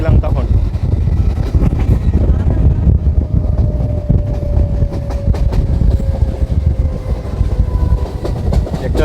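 A passenger train rumbles loudly across a bridge on the Krishnanagar–Ranaghat line, with constant heavy rolling roar, rattling clatter and a faint drawn-out squeal, while someone talks over it from on board.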